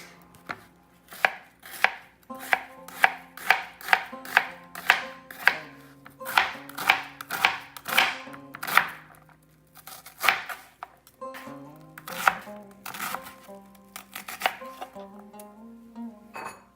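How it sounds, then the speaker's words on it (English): Onion being chopped with a knife on a cutting board, a quick series of sharp, close taps in bursts with brief pauses between runs, no talking. "Chop the onion first."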